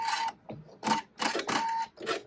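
Embroidery machine stitching a decorative stitch on a Halloween bat design, a close mechanical whirring hum in short repeated bursts separated by brief pauses.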